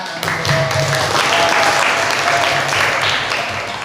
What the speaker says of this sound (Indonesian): Oke, kita beri tepuk tangan.